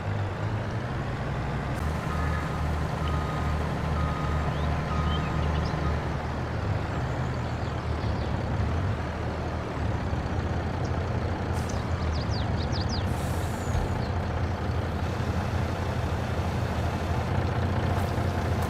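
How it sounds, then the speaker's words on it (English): A truck backing up a trailer in Farming Simulator 22, a steady low diesel engine drone with a hiss of air brakes and faint beeps, with no talking. "let's just back the trailer up"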